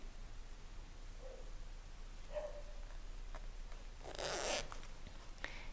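A metal slider is fitted onto the zipper of a patchwork cushion, giving a few faint scattered ticks followed by one short, sharp zipping rasp near the end, close and quiet with no talking.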